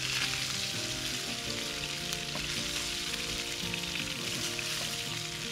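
A blue morwong fish sizzles steadily and loudly as it fries in a pan, a continuous dense crackle with no voices.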